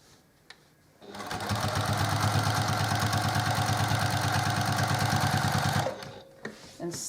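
A sewing machine stitches quilt rows together in one continuous fast burst of about five seconds, a steady rapid mechanical chatter close to the listener, with quiet handling noises before and after.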